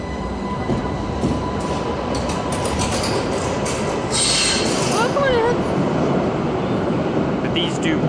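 An Essen U11 U-Bahn tram train rumbles loudly nearby, its wheels grinding on the rails, with a rising metallic squeal as the wheels screech around the middle before the rolling noise carries on.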